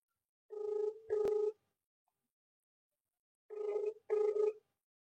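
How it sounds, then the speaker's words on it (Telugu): A phone call rings back twice, each ring a pair of short electronic tones, clear and close, separated by about two seconds of silence. "రింగ్ అవుతుంది కానీ అసలు ఫోన్ లిఫ్ట్ చేస్తలేడేంది"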